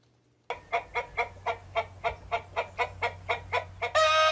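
A chicken clucks in a political attack ad from a congressional campaign committee: about a dozen loud, evenly spaced clucks in a steady rhythm, ending in a brief denser burst.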